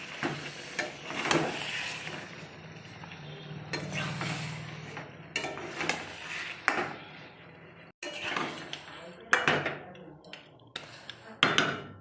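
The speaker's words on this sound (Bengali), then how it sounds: "এবার আমি মাংসটা দিয়ে দেবো। এরপর মাংসটা নেড়ে নেব।" Meat dropped into hot spiced oil in a pan and stirred, giving a soft sizzle with intermittent scraping and clatter of a utensil against the pan in irregular bursts, fairly close and quiet.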